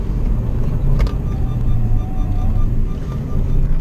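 A car on a race track rumbles close by with a loud, steady low drone, holding near one pitch for the whole stretch rather than clearly rising and falling in revs.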